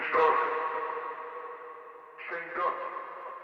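A sung vocal line with a delay throw, the delay itself fed through a second delay, so repeats trail and stack behind each phrase; two loud attacks decay into a thinning wash of echoes.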